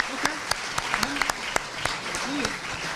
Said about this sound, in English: if we could have a big round of applause for our speaker